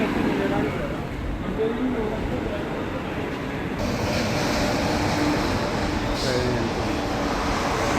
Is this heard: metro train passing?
yes